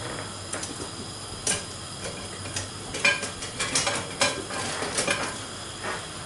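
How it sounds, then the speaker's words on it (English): Fishcakes, two at a time, go into a frying pan, with clattering, scraping and light ticking contacts over a soft sizzle, close and moderately loud. "So let's get the fish cakes. Just going to cook two at the moment."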